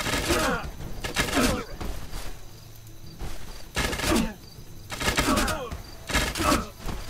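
Ranged units in the Age of Wonders strategy game fire on enemies in repeated bursts of crackling, popping shots, about five loud volleys spaced through the stretch with brief quieter gaps.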